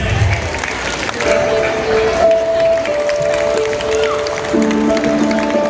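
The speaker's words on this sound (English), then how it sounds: "Come on, give a big round of applause." Audience applause at a school's 40th annual day celebration, steady clapping from a crowd lasting throughout, with a continuous musical tone and some background voices mixed in.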